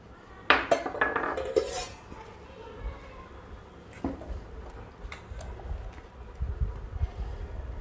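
Utensils clink against dishes as pulihora, a tamarind rice, is served onto a plate for a Shravana Friday festive meal; a few sharp clinks come close at first, then softer scattered taps follow under a quiet room.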